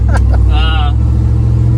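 A 1993 pickup truck swapped with a supercharged LT4 V8 and 10-speed automatic pulls hard on a street, its loud, steady engine roar filling the cabin throughout, with a brief voice over the top.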